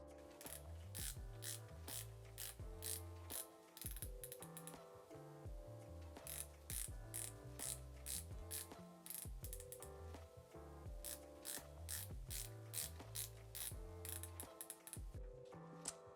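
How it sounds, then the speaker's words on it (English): Rotating bezel on a diver's watch with an ETA 2824 movement, turned through quick runs of sharp, light ratcheting clicks in uneven bursts, close up and quiet with no talking. "And this is how the bezel sounds like."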